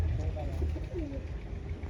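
A caged pigeon gives a few low coos close by, with steady background hum and some faint murmuring underneath.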